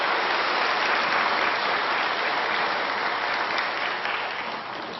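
A church congregation applauds after a choir and student instrumental accompaniment, producing dense, even clapping that fills the room and holds steady before easing off near the end.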